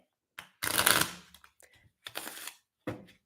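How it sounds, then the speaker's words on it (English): A deck of cards shuffled by hand: a sharp riffle burst, a longer ruffling cascade, then another riffle and a short final flutter, close and clear with no talk over it. "let me shuffle this one more time because I just love that I can actually shuffle this fucking deck"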